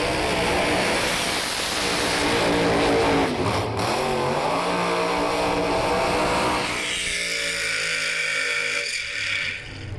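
Top Doorslammer drag cars with supercharged big-block engines race at Calder Park Raceway, a loud, sustained roaring engine howl that swells and shifts pitch as they pass, then tapers into a lower, fading drone near the end.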